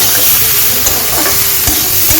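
Spices and small mourala fish sizzle and fry steadily in a pan while being stirred, a dense continuous hiss with occasional scraping knocks of the spoon, close and alone.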